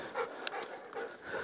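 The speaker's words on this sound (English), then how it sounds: "She's such a good dog." A dog pants quietly on a woodland path near a pond, a rhythmic series of soft, breathy puffs close by, with a brief sharp click partway through.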